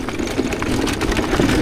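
A motorcycle engine runs steadily nearby, a loud, continuous low rumble with a slightly uneven throb and no talking over it.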